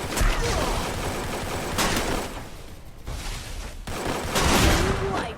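Loud, dense bursts of gunfire from the shooter game Free Fire fill the whole stretch in heavy volleys. The firing briefly eases between clusters of overlapping shots.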